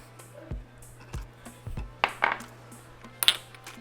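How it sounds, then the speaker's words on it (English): A spoon stirs a yeast and sugar mixture in a bowl, giving scattered light clinks and taps against the side over a faint steady hum, close and fairly quiet. "Give it a stir."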